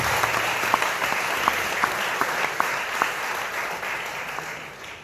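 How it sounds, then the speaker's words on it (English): An audience at a talk applauds, producing a steady, even wash of many hands clapping with a few louder individual claps, continuing without voices throughout. "Another round of applause for him,"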